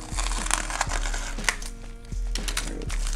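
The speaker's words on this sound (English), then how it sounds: "I cut the paper." A blade slices open a paper package, giving a run of close, crisp tearing and crunching strokes with sharp transients, heard alone without talk.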